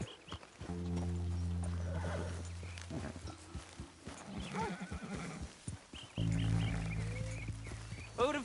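A horse in the video game Red Dead Redemption 2 gallops with steady clip-clopping hoofbeats and loud whinnies, in two bursts separated by a quieter stretch of hooves, with no voices.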